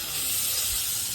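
Onions go into a hot frying pan of spiced oil while country chicken is cooked outdoors in the Ajodhya hills of Purulia, giving a steady, close, bright sizzling hiss with a slight bump near the end.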